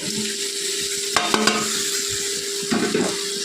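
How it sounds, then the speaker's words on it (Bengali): Radish, Gobindobhog rice and potato stir-fried in spiced oil, a steady close sizzle broken by a few scraping stirs and light pan knocks, with no talking. "তখন সব কিছু দিয়ে ভালো করে কষিয়ে নেব"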